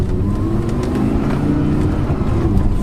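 Audi R8 V10 with R-tronic gearbox pulling away, its engine a steady, loud low rumble throughout with a slight rise in revs and no talk over it.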